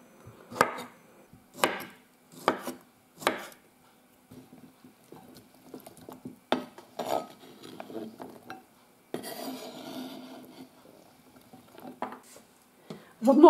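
A knife chops cooled cooked cauliflower on a board for an avocado salad: several sharp, separate knocks at first, then softer irregular cutting and rustling, close and clear with no talking.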